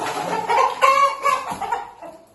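A chicken clucks loudly and close by in a quick series of throaty, chattering calls.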